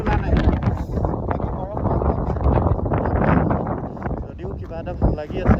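Strong wind at Sela Pass, 13,700 ft in Arunachal Pradesh, during a motorcycle ride, roars and buffets the microphone loudly and without a break while a voice talks through it.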